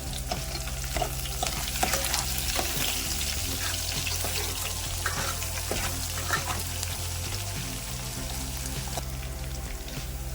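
Onions fry and sizzle steadily in a pan for chicken curry while a utensil stirs them, scraping and clattering in irregular bursts over a continuous bed of sizzle.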